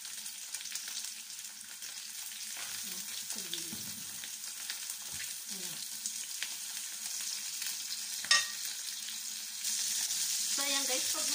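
Butter sizzles and fries steadily in a pan on low heat while sea bass cooks, a continuous close crackle with occasional clinks and stirring sounds and a brief louder hiss near the end.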